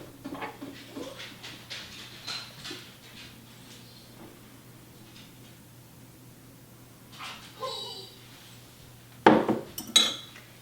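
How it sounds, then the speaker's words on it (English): A metal spoon clinks and scrapes against a bowl while stirring sugar into yeast water for bread dough, light irregular taps near and fairly quiet, with a couple of sharper knocks toward the end. "you need to stir the sugar until it looks like there's no more sugar in the bowl"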